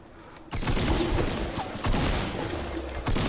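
Gunfire in Fortnite bursts in after a quiet moment and carries on in loud, dense volleys with brief dips between them.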